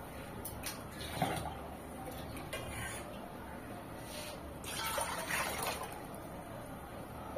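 Two litres of water poured into a large pot on a lit gas stove while making rice-flour papad, a steady close trickling splash running throughout with a low background hum.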